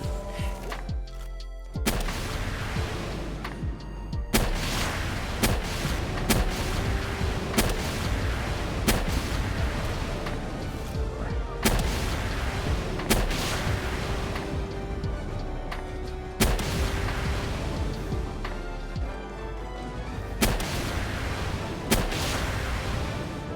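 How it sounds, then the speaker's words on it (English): Grenade launchers fire repeatedly in the video game Palworld, with heavy booming blasts and thuds going off at irregular intervals over a dense, loud wash of game sound. "I made Masanda grenade launchers, and I had fun until I broke Quivering."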